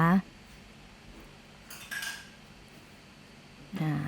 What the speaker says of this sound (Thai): จากนั้นเราจะยกหม้อขึ้นตั้งไฟแล้วนะคะ